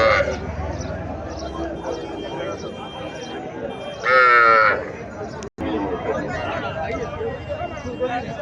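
A native cow gives a loud, drawn-out moo partway through, heard over steady chatter and talk from people nearby at a busy outdoor cattle market.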